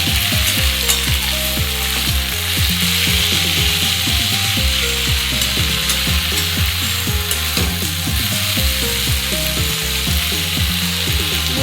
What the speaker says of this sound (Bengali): আমি একটু ছাড়িয়ে ছাড়িয়ে দিয়ে দিয়েছি করে ভালো করে ভেজে নেব